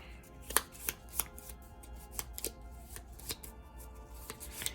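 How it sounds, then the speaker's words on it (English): Cards from The Big Book of Madness board game are shuffled by hand close up, a run of sharp riffling snaps and soft slides at an uneven pace, faint and without talk. "Here we are shuffling."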